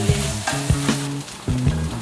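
Sausages sizzle and spatter in a pan for a quick batch of party bowls, a steady crackling fry with occasional stirring knocks and scrapes, close and fairly loud with no talk.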